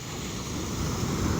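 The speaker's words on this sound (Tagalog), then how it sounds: "So ganito nga kalakas yung alon mga Zay, talagang dadalhin ka talaga sa gilid." Strong sea waves at Kite Beach in Dubai at sunset, a steady broad roar of surf with wind buffeting the microphone, building slightly louder toward the end.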